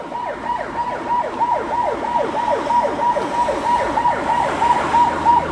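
A wailing ambulance siren sweeps up and down repeatedly in a fast cycle, loud and nearby, with traffic rumbling underneath, on a street beside Cheonggyecheon Stream in Korea.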